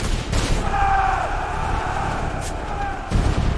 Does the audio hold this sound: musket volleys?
yes